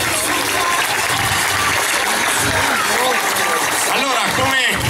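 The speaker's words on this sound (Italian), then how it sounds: "Fatemi un applauso." Audience applause at a holiday-resort entertainment show, a steady dense wash of clapping lasting throughout, with voices and chatter mixed in underneath and a few louder shouts near the end.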